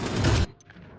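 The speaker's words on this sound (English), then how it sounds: "Opening fire." Loud burst of rapid gunfire in the tactical shooter Ghost Recon Wildlands, a dense half-second volley that cuts off abruptly into quiet ambience.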